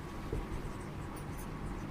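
Steady scratching of chalk or marker writing on a board during a physics lesson on electrostatics, continuous and close, with no talking over it.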